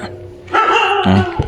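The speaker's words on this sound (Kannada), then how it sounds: "ಆ್ಯಕ್ಚುಲಿ ನಾವು ಬಂದಾಗ ನಾಯಿ ಬೊಗಳುತ್ತಿತ್ತೆ" A dog barks at a temple in Kunigal at night, giving two or three sharp, close barks in quick succession over a quiet background.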